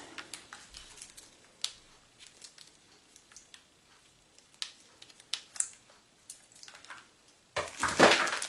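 Packaged items from a Cricut Explore cutting machine box being unwrapped: scattered soft crinkles and rustling taps of plastic and paper, close and fairly quiet, ending in a louder burst of crinkling wrap.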